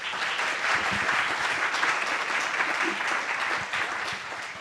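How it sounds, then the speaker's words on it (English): Steady audience applause at a SensUs 2023 pitch event welcoming a team to the stage, a continuous wash of clapping from a crowd that tapers slightly near the end. "so big hand of applause."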